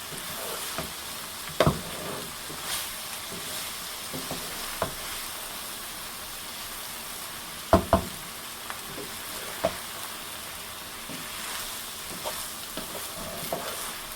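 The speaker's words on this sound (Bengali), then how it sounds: "এইভাবে আস্তে আস্তে আমি রাইসের সঙ্গে সবগুলো এপিট ওপিট করে নেড়ে নেব" Spicy fried rice is tossed and stirred in a hot pan, with a low continuous sizzle broken by several sharp scraping and clinking strokes of the spatula at irregular intervals.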